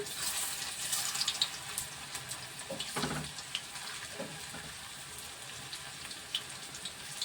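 Bottle gourd kofta balls fry in shallow oil with a steady broad sizzle and crackle, a few louder spattering bursts rising briefly around the middle before settling back to a continuous hiss.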